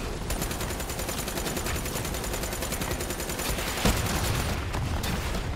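Dense, rapid gunfire from the Call of Duty Black Ops III video game, with sustained overlapping bursts throughout and one louder crack near the middle. Loud and continuous, with no talking.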